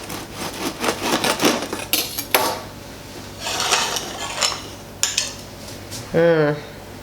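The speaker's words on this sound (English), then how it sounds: "I'm going to cut another slice, or cut a slice so that I can show you what it looks like." A knife cutting a slice from a homemade loaf of soft whole wheat bread, heard as a series of close scraping and sawing strokes with light clatter, ending in a short squeaky rub.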